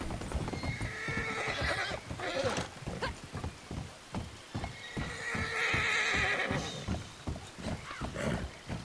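Horse hooves clip-clop in a steady rhythm, broken by a loud whinny partway through, with a few brief voices underneath, from the video game Red Dead Redemption 2 Online.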